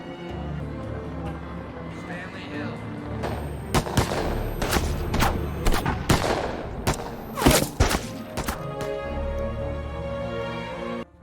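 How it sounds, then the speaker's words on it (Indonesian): Police open fire in a film scene, loosing rapid bursts of loud gunshots that come in clusters over a rumbling score, with a speaking voice partly under the shots. "Stanley diberondong ratusan peluru yang"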